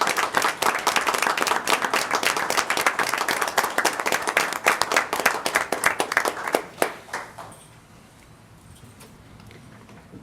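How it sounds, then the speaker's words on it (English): A small group at a school Board of Education meeting gives a round of applause. The clapping is brisk and close, thins into scattered claps after about seven seconds, and dies away into quiet room sound. "Let's give him a round of applause."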